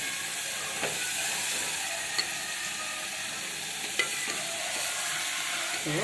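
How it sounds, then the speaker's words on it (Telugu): Mutton pieces frying in a pan of hot oil for a mutton gravy curry, a steady hissing sizzle throughout with a few sharp clicks and pops, close and even, no talking. "ఇంకొంచెం వేగిన తర్వాత మటన్ పీసెస్ వేస్తాను ఇది వేస్తున్నాను చూడండి వేస్తున్నాను"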